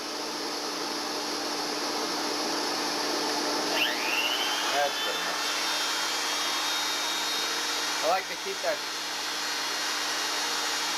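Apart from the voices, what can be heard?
sander running with vacuum attached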